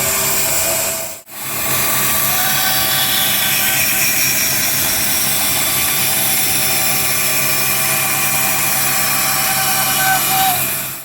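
A power saw cuts a radius into a curved stair riser for a bullnose tread. The steady loud whine runs almost nonstop, broken by one short pause early on.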